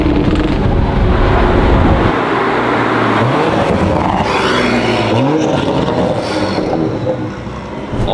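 A Toyota Supra fitted with a VRSF downpipe accelerates hard in third gear, its engine note climbing in loud repeated sweeps as it pulls past up close, with turbo whistle over the exhaust tone.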